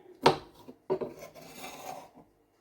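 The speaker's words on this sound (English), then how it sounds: "I'm chopping the grapes here" Knife chopping red-skinned apple pieces and grapes on a cutting board: a few close, dull chops with short scraping rasps between them, quiet and on their own.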